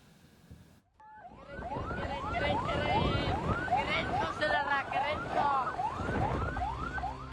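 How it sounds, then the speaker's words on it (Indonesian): An ambulance races down a road in Makassar, South Sulawesi, its siren wailing in rapid repeating rising yelps, loud and close, over traffic noise after a brief quiet start. "Ambulan melaju dengan sirine yang dibunyikan tak bisa mendahului pelaku."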